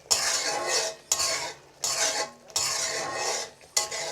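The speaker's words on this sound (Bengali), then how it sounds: "এখন আরেকটু নেড়ে নেব।" Bata fish bhuna curry with cumin and chili powder is stirred in a pan, giving five rhythmic scraping strokes of a metal spoon against the pan, loud and close with brief pauses between, over a faint sizzle.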